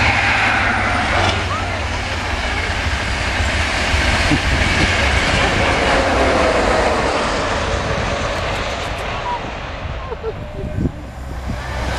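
A passenger train runs past on the line to Stansted Airport, a steady loud rumble and rail roar filling the whole stretch, fading slightly near the end, with people chatting over it.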